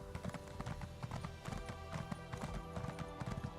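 A pony's hooves clip-clop at a steady walking rhythm in the Elder Scrolls Online fantasy game, close and clear over soft tonal background music.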